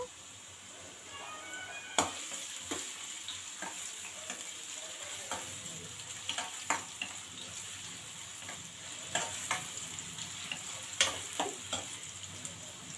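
Carrot pieces fry in a pan for egg fried rice, giving a steady bright sizzle throughout, broken by sharp scrapes and knocks as the spatula stirs them at irregular intervals.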